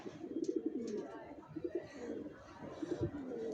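Racing pigeons of long-distance Johnson-line stock coo repeatedly on a rooftop loft, a steady overlapping murmur of soft throaty calls with a few faint chirps above.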